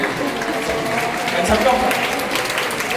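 Audience at a church retreat claps in a steady wash that fills the whole moment, with faint voices under it.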